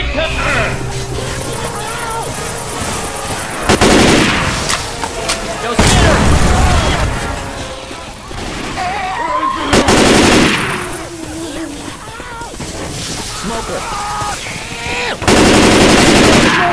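Rifle fire in the zombie shooter Left 4 Dead 2, in The Parish campaign: loud bursts of automatic gunfire and booms come in several volleys over game sounds and ongoing talk.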